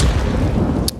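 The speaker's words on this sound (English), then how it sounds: "Deep nade, Fame." A grenade blast in a Counter-Strike match, heard as a heavy, low, rumbling boom that fills the whole moment before dropping off abruptly.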